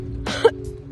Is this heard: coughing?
yes